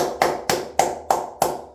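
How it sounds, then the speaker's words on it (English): Five sharp, evenly spaced hand claps ring out one after another, each with a short decay, close and fairly loud with no voices. "Round of applause."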